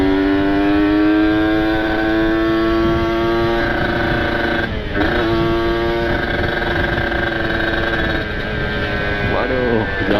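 A motorcycle with a specially ported engine and an open aftermarket exhaust drones loudly and up close with a strong, even tone, dipping briefly a couple of times before settling back.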